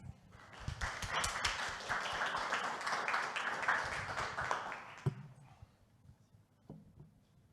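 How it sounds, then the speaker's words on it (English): An audience at a Celo x Chainlink builder day salon in Paris claps for several seconds, a dense, steady patter of many hands that stops abruptly, leaving scattered faint taps and room noise. "let's give Kemal a round of applause"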